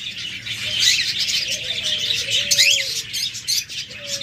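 Several small caged birds, budgerigars, cockatiels, lovebirds and diamond doves, chirping and tweeting close by in quick, overlapping bursts, with a faint flutter and a low whistle-like call underneath.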